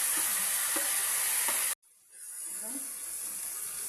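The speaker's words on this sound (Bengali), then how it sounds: "পেঁয়াজ রসুন ভাজা হয়ে গেছে, তখন আমি দিয়ে দেবো ম্যারিনেট করা" Marinated mutton sizzles and hisses in a pan of fried onion and garlic, a steady loud frying sound with stirring scrapes; it cuts to near silence for a moment, then the sizzle resumes slightly softer.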